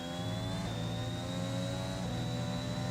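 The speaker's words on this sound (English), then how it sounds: "Just listen to the engine." An F1 car engine in the F1 2021 racing game, droning steadily at high revs with a slowly rising whine, loud and continuous with no talk over it.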